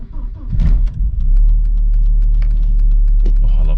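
A Volvo 940 Turbo engine cranks and catches, then settles into a loud, steady low idle rumble close by.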